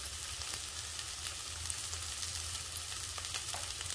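Turmeric fries in hot oil in a pan while raw mango rice is being made, a steady close sizzle with faint stirring taps and no talk.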